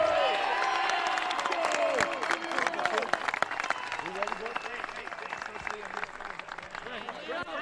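Crowd applause and cheering for a summer-league baseball team at the NBC World Series championship, a steady wash of clapping from a large audience with a voice over a loudspeaker.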